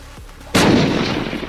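A grenade in the video game Unturned detonates with a single loud, sharp blast that rings out and slowly decays, following a quiet stretch with a faint low thud.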